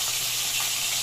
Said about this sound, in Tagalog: nagpiprito naman ako ngayon